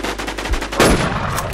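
Rapid automatic gunfire in a Thai-language shooter game, dense bursts of rattling shots running almost continuously with a louder blast near the middle, no talk over it.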